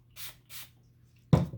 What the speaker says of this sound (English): give that a spray